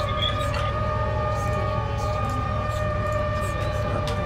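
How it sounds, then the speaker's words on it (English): Sirens in the military video game ARMA 3, a steady sustained electronic wail with layered tones running continuously throughout, with a faint voice underneath. "Do you want me to turn off the sirens for now?"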